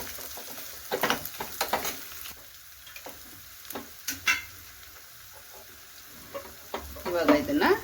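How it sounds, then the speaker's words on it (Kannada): An ingredient sizzles briefly in hot oil for a rasam tempering, with sharp crackles and pops in short bursts between quieter gaps, close to the pan and fairly loud. "ಅದನ್ನು ಕೂಡ ಸ್ವಲ್ಪ ಫ್ರೈ ಮಾಡ್ಕೊಳ್ಳೋಣ"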